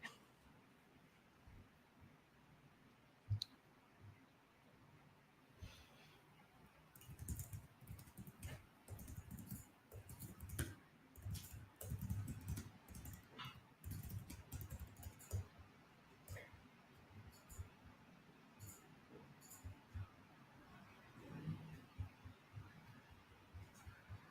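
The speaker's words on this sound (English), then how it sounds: "and Ellis is typing something." Fingers tap on a computer keyboard in irregular bursts of faint clicks, quiet and somewhat distant beneath a low room hum.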